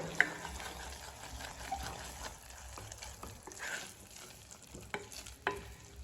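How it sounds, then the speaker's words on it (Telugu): A thick sweet mixture with cardamom is stirred in a pan on the stove, giving soft, repeated scraping strokes over a low sizzle, with a few sharper clicks from the spoon. "రెండు ఇలాచి వేసేసుకొని కలిపేసుకుంటున్నాను"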